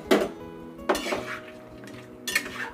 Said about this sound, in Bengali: মশলাটা মিশিয়ে দিচ্ছি।